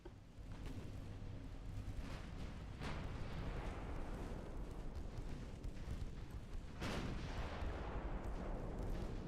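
Naval gunfire from battleships in the Ultimate Admiral Dreadnoughts game, a continuous roar of heavy cannon booms and rumbling explosions, with louder salvos standing out against a dense battle din.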